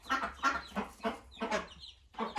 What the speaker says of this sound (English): Oh, now there's two chickies up on top of the heater.